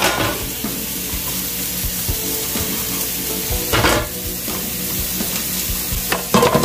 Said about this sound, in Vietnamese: Bơ tỏi, giờ mình sẽ nướng.